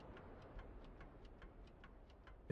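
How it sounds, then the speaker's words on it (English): Apache helicopter engines ticking down after power-off in the DCS combat flight game make a steady, evenly spaced ticking, about four ticks a second, over a soft background hiss, ending in a brief louder knock. "You can hear the engines ticking down."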